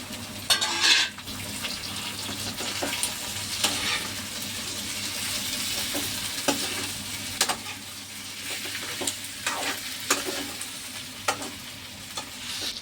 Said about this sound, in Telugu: టమాటాలు వేస్తున్నానండి ఇప్పుడు.